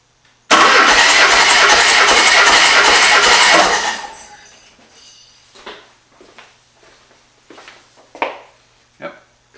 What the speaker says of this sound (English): we're just going to crank it over just to show you how to test the compression